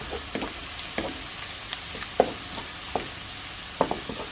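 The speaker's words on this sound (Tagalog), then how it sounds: "So hintayin natin medyo matostado ng konti itong bawang." Garlic for adobong sitaw toasting in hot oil, a soft steady sizzle broken by regular scraping stirs of a spatula against the pan, close and moderately quiet.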